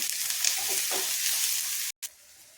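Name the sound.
sautéing crushed ginger and garlic with onion in a pan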